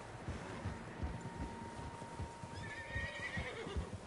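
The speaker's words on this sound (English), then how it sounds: "Horses, quite a few of them." Horses in the video game Red Dead Redemption 2, a steady clip-clop of hooves on the ground with occasional snorts, moderately close and fairly quiet, no speech.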